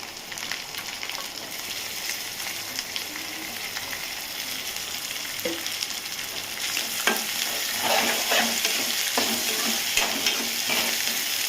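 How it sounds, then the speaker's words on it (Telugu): Soaked pieces fry in oil with ginger-garlic paste and masala, a continuous close sizzle that grows louder partway through, with stirring scrapes and clicks and no voices. "అందుకని నేను ఆయిల్లోనే మసాలాలోనే వేపుతున్నాను అనమాట."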